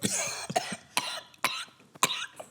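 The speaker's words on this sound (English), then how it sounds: "I love that that's how we have to start a cough now." Several dry, harsh coughs from a person who has smoked for years, about five bursts spaced roughly half a second apart, close and fairly quiet.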